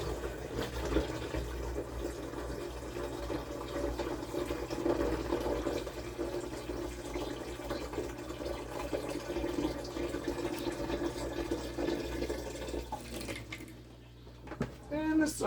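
Rotifer culture water poured from one vessel into a container makes a steady, continuous watery rush close by that eases off near the end, with faint vocal sounds underneath.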